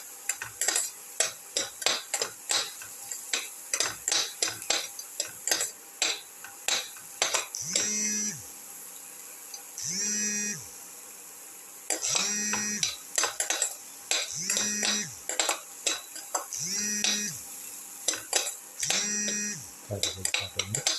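Potato, tomato and ginger being sautéed and stirred in a pan, with frequent clinks and scrapes of a utensil against metal over a low sizzle, plus regular short tonal beeps from about eight seconds on.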